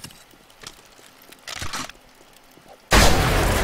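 Shotgun fire in the survival game 7 Days To Die: one loud, broad blast near the end, following quieter scattered game noises and a brief muffled thump.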